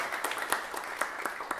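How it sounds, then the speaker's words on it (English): Light, scattered applause from a concert audience for a piano soloist at a high school jazz band's final concert, a few distinct claps standing out over a faint patter. "applause to our piano soloist."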